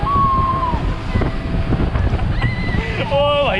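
Sea water sprays and rushes around a speedboat on a Musandam, Oman day trip, with steady wind buffeting the microphone throughout, rough splashing bursts in the middle and whistles and voices breaking in over the noise.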